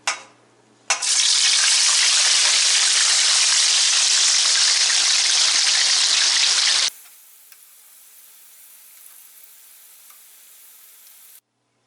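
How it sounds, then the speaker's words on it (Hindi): French fries frying in hot oil for a KFC-style zinger burger meal: a loud, steady sizzle bursts in after a brief pause and runs for about six seconds, then cuts to a quiet background with faint crackles. "फ्राइज फ्राई कर लेते हैं।"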